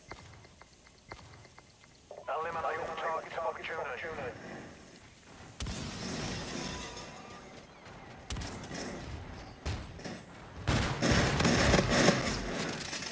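Gunshots ring out in Call of Duty: Infinite Warfare, several sharp loud cracks and bursts spread across the stretch amid busy game noise, with a voice talking at times.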